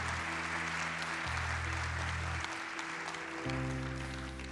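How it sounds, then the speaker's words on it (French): An audience at an entrepreneurs' awards evening applauds, a continuous, fairly even wash of clapping under steady background music with shifting low tones. "On peut encore une fois vous applaudir"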